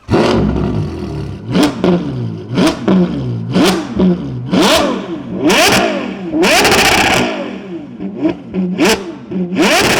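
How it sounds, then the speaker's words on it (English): A high-revving Novitec Ferrari Purosangue engine with a full race exhaust system, blipped repeatedly in sharp bursts that rise and fall, crackling between revs, close and loud. "It's got a complete full house race exhaust system on this car, and it is bonkers."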